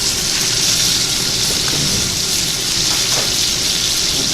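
A steak sears in a hot pan just after being flipped, a steady, loud, close crackling sizzle with no talking.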